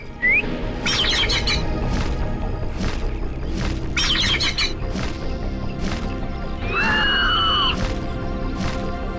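A bird squawks loudly and repeatedly in sharp, scratchy bursts over a steady background din, with a couple of longer, whistling cries near the end.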